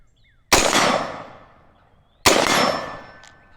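Two sharp, loud AR-15 rifle shots fired outdoors at a range from about 50 yards, roughly two seconds apart, each a crisp crack followed by a long fading echo.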